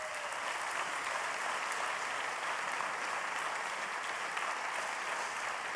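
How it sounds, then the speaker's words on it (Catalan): A sustained, steady roar of applause from the audience at a wine awards gala (Premis Vinari 2024) as prizes are presented, dense clapping holding at an even level throughout with no voices over it. "Aplaudiment."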